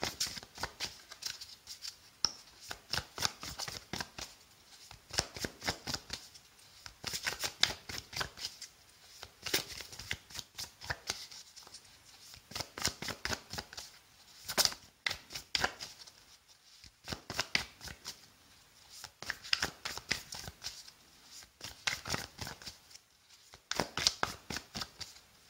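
Tarot cards are shuffled over and over by hand in a quiet room, with bursts of riffling and flicking that keep starting and stopping at close range and no voices.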